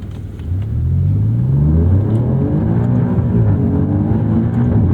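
A 2019 Alfa Romeo Giulia Quadrifoglio in race mode revs hard through the gears, its engine note rising in steady, loud climbs with brief dips between shifts, heard from inside the car without talk.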